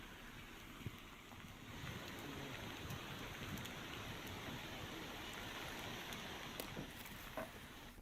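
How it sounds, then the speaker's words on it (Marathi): Heavy monsoon rain in Igatpuri taluka, Nashik, falls as a dense, even hiss of drops on surfaces, faint and distant, with scattered sharper drip ticks and no talking. "नाशिकच्या इगतपुरी तालुक्यामध्ये सकाळपासूनच मुसळधार पाऊस सुरू आहे"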